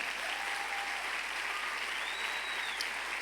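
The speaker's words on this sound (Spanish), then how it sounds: "dale una ofrenda de palmas a Él." A church congregation claps steadily during a sermon, a sustained even roar of many palms that stays constant throughout, with faint tonal sounds drifting over it.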